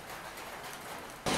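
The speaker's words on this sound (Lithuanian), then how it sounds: "lietus tik tai atrodo, kad smarkiau pradeda lyti" Rain falls steadily as a broad, even hiss, then abruptly grows louder and harsher near the end as the downpour intensifies, heard on a scooter trip between Phuket and Krabi.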